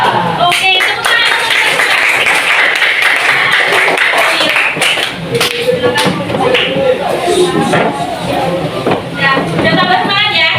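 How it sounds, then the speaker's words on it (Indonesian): Students in a classroom clap together, a dense burst of applause filling the room and continuing with scattered claps and shuffling, with a teacher's voice audible over it. "tepuk tangan"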